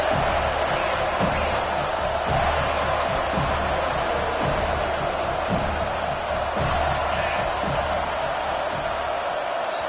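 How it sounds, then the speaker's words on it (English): A dense college football stadium crowd roars in a steady, loud wall of noise, with rhythmic thumps and claps pulsing through it and a voice faintly underneath. "This crowd bringing an ear-splitting welcome to their visitors"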